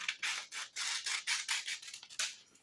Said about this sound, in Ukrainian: беремо ножиці і так рівненько відрізаємо зайве